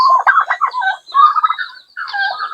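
Turkeys gobbling in a farmyard, two or three close, loud rattling gobble calls in quick succession with brief gaps, alone without talk.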